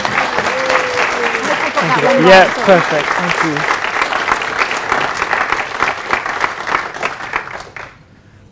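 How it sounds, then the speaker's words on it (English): Sustained audience applause at an ethics lecture on euthanasia, loud and dense, greeting a speaker before fading out near the end, with a few spoken words audible early on. "So, big round of applause for Michael."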